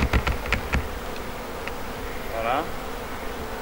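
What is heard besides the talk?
honeybee swarm buzzing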